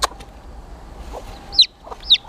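Backyard chickens and baby chicks: a few short, high peeping calls with soft clucks in between, close by and fairly clear against a quiet background.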